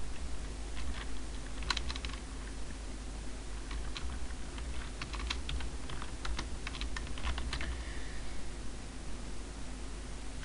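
Light, irregular tapping of keys on a computer keyboard over a steady low hum, clustered in short bursts.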